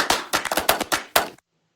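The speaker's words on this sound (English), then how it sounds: "And then I have this cashmere clap loop here" A clap loop made from a cashmere clap sample snaps in several sharp, bright claps in a short syncopated burst, then stops abruptly into silence.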